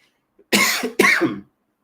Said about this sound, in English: I've been coughing these days